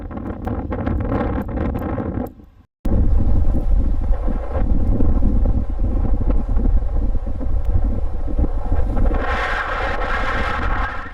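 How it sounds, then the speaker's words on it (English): A strong gale roars across a microphone on a cliff in northern Okinawa, a loud continuous buffeting rush with a brief cutout near the start, then steady heavy gusting throughout. "It was blowing an absolute gale."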